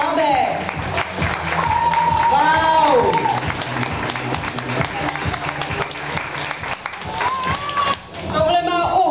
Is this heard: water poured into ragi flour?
no